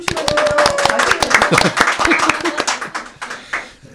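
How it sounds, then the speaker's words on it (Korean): An audience claps for a returning Korean talk show, a dense run of sharp hand claps at steady loudness that thins and fades toward the end, with a voice briefly over it. "박수 한번 쳐주시죠"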